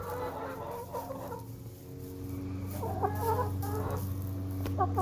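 Baby Cornish chickens in a brooder cluck and peep in short bursts, close and fairly soft, over a steady low mechanical hum that runs underneath throughout.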